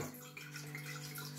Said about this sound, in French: pour finaliser, forcément, il faut mettre de l'eau